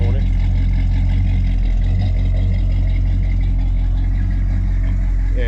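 A 1987 Chevrolet El Camino's engine runs steadily at a loud, close idle with a deep, constant rumble and no pauses.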